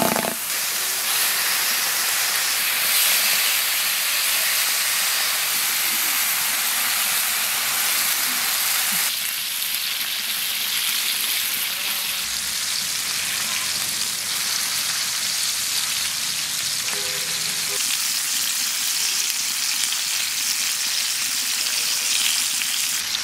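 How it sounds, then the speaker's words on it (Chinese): Marinated duck legs pan-fry in a pan with a steady, loud, close sizzle and hiss of spitting oil, continuous for over twenty seconds with small shifts in intensity and no talk. "鸭腿上的油比较多，多煎一会儿，煎出去就不腥了。"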